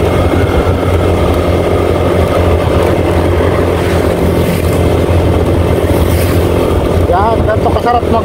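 Motorcycle engine drones steadily while riding at night on the way to Nuvali Park, a constant loud hum throughout with wind noise and faint voices underneath.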